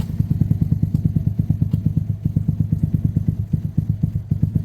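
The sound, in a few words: Herald motorcycle engine idling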